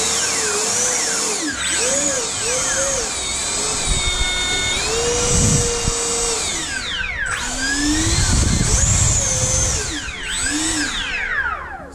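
Twin 40mm EDF jet fans on an Xfly SU57 model aircraft spin up together, giving a loud, close, high-pitched whine that rises and falls as the throttle changes, with several sweeping pitch bends.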